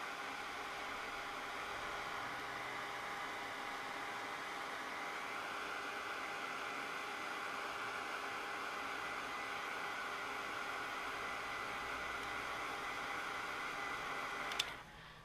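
A heat tool blows continuously to dry paint on a gothic wand, a steady loud airy whoosh with an even mechanical hum, holding level throughout before a brief click as it cuts off.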